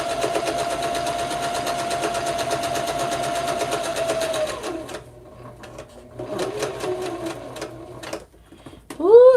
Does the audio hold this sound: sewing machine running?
yes